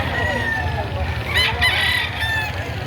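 Chickens and roosters for sale at a livestock auction crow and cluck close by, several overlapping calls over a busy murmur of people talking.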